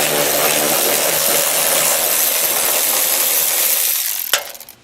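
A power tool or ratchet whirs steadily as bolts and a cap screw are backed out, loud and continuous for about four seconds before stopping with a sharp metallic clink and a fading tail.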